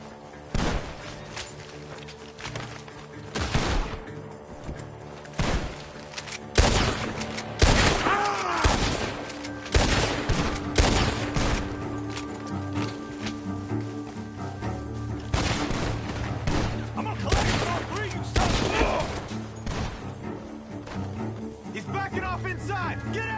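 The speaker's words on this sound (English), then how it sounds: "Gunshots are coming from that barn." Gunfire erupts from a barn in Red Dead Redemption 2, with sharp gunshots and rapid bursts repeating irregularly throughout, moderately loud and mixed with game sounds and shouting voices.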